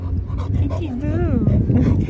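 A dog pants in quick rhythmic breaths close by, with a brief whimpering whine in the middle, as someone talks over it indoors.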